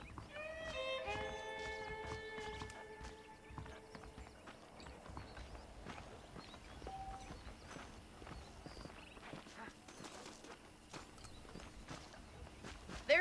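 Horse hooves clip-clop steadily in the Western video game Red Dead Redemption, a walking rhythm under a music and ambient backdrop, with some early tonal musical notes and no speech.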